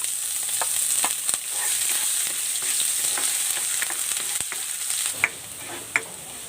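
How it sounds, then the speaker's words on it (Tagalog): Chopped ginger sautéing in hot cooking oil, a steady bright sizzle with a few sharp crackles and clinks near the end, no talking. "Maglalagay ako ng cooking oil. Igigisa ko na tong luya."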